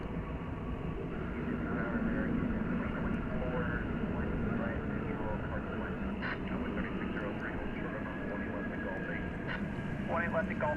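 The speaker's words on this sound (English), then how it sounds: "this is an Airbus A319. It's American Flight 833." Airbus A319 operating as American Flight 833 at Dallas/Fort Worth airport, a steady broadband engine roar that holds level throughout, with someone talking over it.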